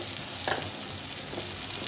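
Vegetables and tomato fry in a pan with a steady, close sizzling hiss that runs the whole time, plus a couple of faint stirring scrapes.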